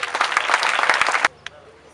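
Audience at a school supplies handover ceremony in Congo claps loudly and densely for about a second and a quarter, then stops abruptly, leaving a faint room murmur and one stray clap.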